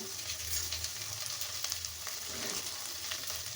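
Okra fries in oil in a pan, a soft, steady sizzle with faint crackles and a few light stirring touches, quiet and close with no one talking.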